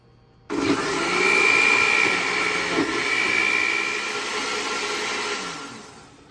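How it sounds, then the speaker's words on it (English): An electric mixer blends crêpe batter ingredients with butter. It starts abruptly with a loud, steady high-pitched whir and holds that pitch closely for several seconds before tapering slightly at the end. "And we're going to mix that together."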